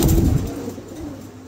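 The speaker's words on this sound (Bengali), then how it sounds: "চমৎকার একজোড়া কবুতর" A pair of pigeons on sale at a market coo close by, one low, throaty rolling coo that fades into a softer, lingering murmur.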